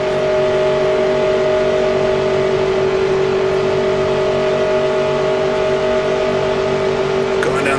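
Stock car engines in a NASCAR 1966 Daytona 500 racing game drone steadily and loudly at high revs throughout, a continuous near roar with a faint pass near the end.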